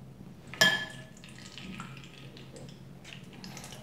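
Water is squeezed by hand out of soaked bulgur wheat for baked kibbeh. A sharp splash and clatter come first, then quieter wet dribbling and small drips into a bowl in a kitchen.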